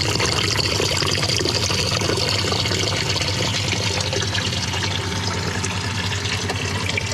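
Water drains out of a sailboat's engine cooling system, a continuous close rushing and splashing flow, steady and loud throughout with no talk.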